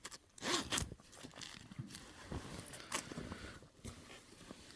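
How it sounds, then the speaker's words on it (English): Zipper on a US Army OCP-pattern bag being worked: close, quiet rasping zip strokes in several short bursts, one louder pull near the start, with soft fabric rubbing between them. "and a zipper to it."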